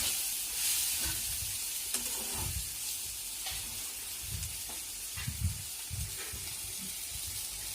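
Tomato and egg frying together in a pan, a continuous hissing sizzle with repeated low thumps and scrapes from stirring, close and fairly quiet, no talking.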